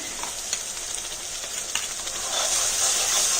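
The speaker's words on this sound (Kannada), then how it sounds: "ಆ ಮಸಾಲೆ ಹಾಕ್ಬಿಟ್ಟು ಸ್ವಲ್ಪ ಹಸಿ ವಾಸನೆ ಹೋಗೋವರೆಗೂ ಫ್ರೈ ಮಾಡಬೇಕದು" Ground masala paste frying in hot oil for a pumpkin curry, giving a continuous close hiss and sizzle with faint stirring clicks that swells louder toward the end.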